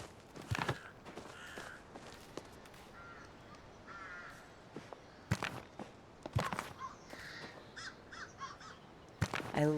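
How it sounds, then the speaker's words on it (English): Crows caw repeatedly in the video game Palia, some calls near and some farther off, scattered over a soft windy background with occasional footstep-like crunches. "I love listening to the crows."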